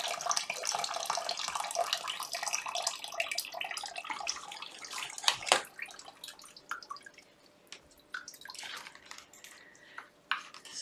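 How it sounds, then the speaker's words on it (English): Water runs from a tap while paper clay is being worked, a steady broad rush with drips and small splashes, loudest in the opening seconds and thinning to scattered trickles and plops toward the end, with no voices. "you can hear all that water coming out."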